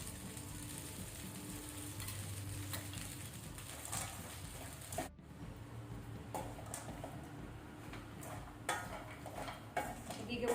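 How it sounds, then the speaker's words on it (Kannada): Dry dates stirred and frying in ghee in a pan, with steady scraping and clinking of a utensil against the metal over a soft continuous sizzle, close and moderately loud. "ಈಗ ಉತ್ತುತ್ತಿ ಸಹ ಸ್ವಲ್ಪ ಫ್ರೈ ಆದರೆ ಸಾಕು, ತೆಗೆದಿಡುವ."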